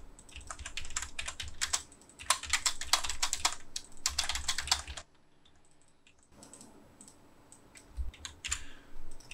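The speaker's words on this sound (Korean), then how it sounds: "AP를 입력하고 엔터 클릭하십니다" Keys on a computer keyboard tapped in quick bursts, followed by a firm key press, then a quiet pause and a few scattered clicks; close, crisp and without talk.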